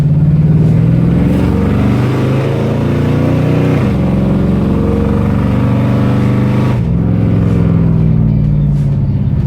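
A loud, deep V8 engine of a 1971 Chevrolet Chevelle roars continuously nearby, revving and shifting through gears with brief dips and surges in pitch.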